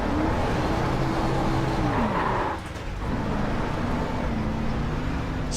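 A NASCAR race car in iRacing at Stafford spins out, the engine note sweeping down as the car slides, a skidding burst of tire noise, then the motor revving back up alone and close.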